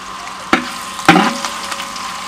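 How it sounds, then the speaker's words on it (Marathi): Garlic fries in a pan for a Malvani chicken curry, giving a soft, steady sizzle broken by two sharp clacks of a spoon stirring against the pan, plus lighter scraping. "व्यवस्थित परतून घ्यायचं. लसूण चांगलं भाजू दे थोडी."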